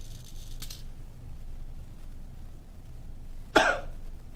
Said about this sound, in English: not a very strong cough, because that's all the volume I can pull in